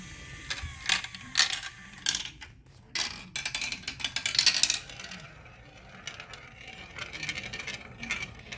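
A homemade marble machine runs with a rattling, clicking mechanism: irregular ratchet-like ticks and clatters, louder bursts near the start and middle, then a softer, busy patter of small parts moving, heard close with no speech.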